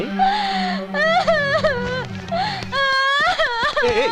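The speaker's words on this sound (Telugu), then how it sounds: "ఎందుకు ఏడుస్తున్నావు?" A woman wails and sobs in a tearful Telugu film scene, her voice rising and breaking in long moaning cries with gasping breaths, loud and close throughout.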